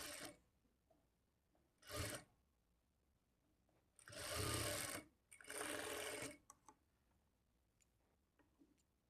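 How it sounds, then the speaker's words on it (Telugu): A sewing machine stitches a sleeve onto a blouse in separate bursts: a short run, then two longer ones, close and loud, with quiet gaps between them and no talking. "ఇలా కొంచెం కొంచెం పట్టుకుంటూ స్టిచ్ చేసుకోవాలి"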